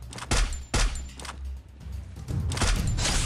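Gunfire in the Free Fire battle royale game, a few loud sharp bursts of shots close together near the start, then a denser rattling volley toward the end.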